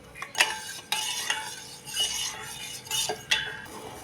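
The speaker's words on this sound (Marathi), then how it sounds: "सतत हलवून गॅसच्या हाय फ्लेमवर ह्यामधली साखर विरघळून ह्या मिश्रणाला चांगली उकळी आलेली आहे." A sugar mixture boils in a pan on high flame while a spoon stirs it, scraping and clinking against the metal in irregular strokes, close and fairly quiet.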